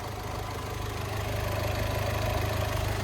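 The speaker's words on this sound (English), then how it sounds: "twin turbocharged, inline 4 diesel engine." A twin-turbocharged inline four-cylinder diesel engine in a 2025 Sprinter 3500XD luxury coach idles steadily at close range, a continuous low rumble with a faint rhythmic pulse and no voices over it.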